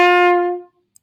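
A single accented note, likely on a wind or brass instrument, strikes clearly and then decays away over about half a second, followed by a tiny faint click.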